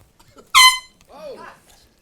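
A single loud air horn blast lasting under half a second, followed by a voice talking.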